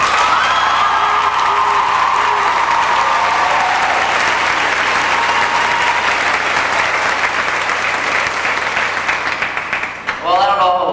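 A large crowd at a high school senior event applauds and cheers for the class valedictorian, loud continuous clapping with whoops and shouts layered in, tapering near the end as voices rise briefly.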